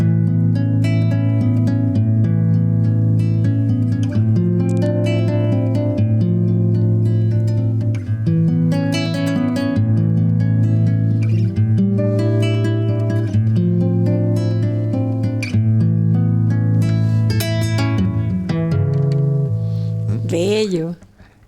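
A major ninth chord rings out, a warm sustained harmony holding steady for about twenty seconds before fading at the end, played alone without talk over it.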